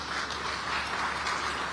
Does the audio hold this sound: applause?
yes